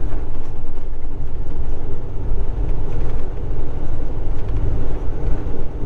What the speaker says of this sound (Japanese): 目の前に貨物列車が横切るぞ